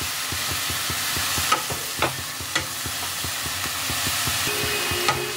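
Radish and prawns cook over low to medium flame in a pan, a soft sizzle under a brisk, regular tapping of a spatula stirring, with a few sharper knocks, close and without talk.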